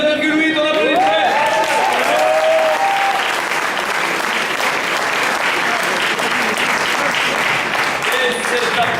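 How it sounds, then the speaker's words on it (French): A poetry slam audience bursts into loud, sustained applause that fills the room; a voice speaks briefly over the clapping at the start. "On applaudit très."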